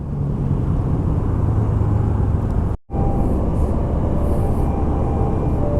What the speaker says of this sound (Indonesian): Ada kereta lewat sebelah kiri.